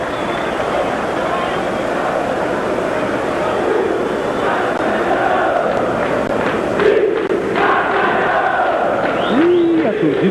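Vasco supporters roar at a 1991 Brazilian championship football match against Botafogo in a stadium, a dense, continuous crowd din with a commentator talking over it.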